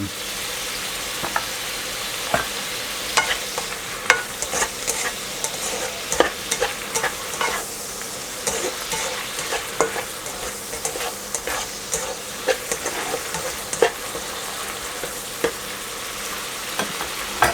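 Minced pork seasoned with fish sauce and sugar being stir-fried in a pan, a steady close sizzle broken by frequent sharp scrapes and clacks of a utensil stirring, with no talking.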